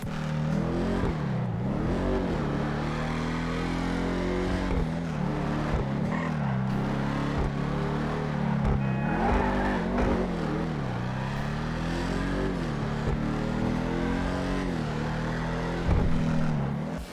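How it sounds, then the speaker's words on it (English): A heavy car engine in GTA 5 Online revs repeatedly as heard from inside the cabin, its pitch rising and falling in surges, loud and continuous with no one talking. "It sounds incredible from inside of the car."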